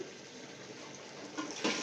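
Water is poured into browned beef in a cooking pot while making Afghan beef pulao, a continuous close splashing gush lasting a couple of seconds with no talking.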